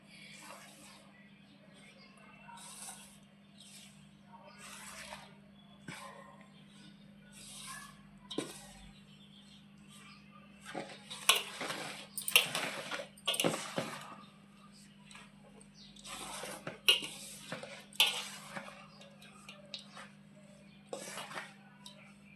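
Sweet laddu mixture, a Shivaratri sattu muddha laddu, mixed by hand in a bowl: repeated scraping and rustling strokes that grow busier and louder midway, with occasional voice and a low steady hum underneath.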